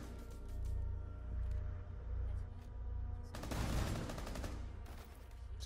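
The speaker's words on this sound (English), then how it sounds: "It's quick shooting." Rapid bursts of gunfire in Rainbow Six Siege, loud close volleys over a low rumbling background, strongest in a dense burst near the middle, with faint talk underneath.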